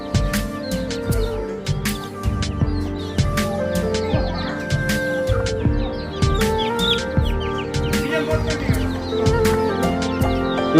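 Chicks and hens cluck and cheep close by in a rural yard during a Sankranthi festival visit, with a steady layered chorus of chirps and clucks throughout and occasional louder calls, no talk.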